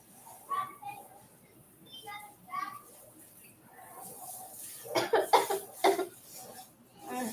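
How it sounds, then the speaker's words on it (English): Several close coughs and throat-clearing bursts from a woman irritated by hot sauce fumes at home, scattered irregularly over a few seconds, with a tight cluster of sharp coughs near the end and soft background voices. "It's like making me cough because it's going straight up my nose."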